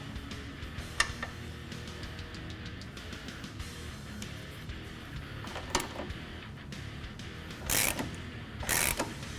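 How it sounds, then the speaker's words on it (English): A wrench snugs the nuts and bolts on a ReadyLIFT rear adjustable heavy-duty track bar fitted to a 2007-2018 Jeep Wrangler JK, giving quiet intermittent ratcheting clicks, then two louder scraping bursts near the end, with no talk. "now just snug up the nuts and bolts right now on the track bar"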